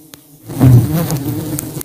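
Mandaguari Preta native Brazilian stingless bees buzz around a hive box after a nest transfer, a close, steady droning hum swelling in after a brief quiet start and holding without any voices.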